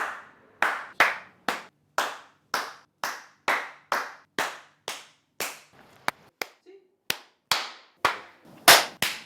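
People in a studio clap together in a slow, steady unison beat, with nearly twenty crisp, loud claps ringing out one after another. A short vocal sound slips in partway through.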